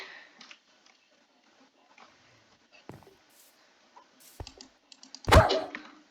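A Minecraft dog barks a few times at close range, with sparse clicks and taps in between and one sharp loud bark near the end.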